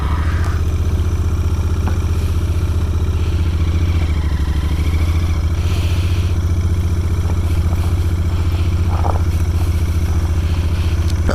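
Royal Enfield GT 650 motorcycle ridden at night, its parallel-twin engine giving a steady, loud, close rumble that runs throughout with road noise and slight throttle changes, no talk over it.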